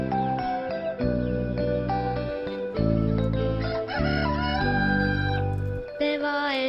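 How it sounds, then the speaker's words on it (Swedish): Music plays steadily with layered tones, with a rooster crowing from a farm over it, close and loud for nearly seven seconds. "Det var en kyckling som hette Gullefjen."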